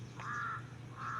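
Crows cawing outdoors, two harsh calls a moment apart, moderately near over a low steady background hum.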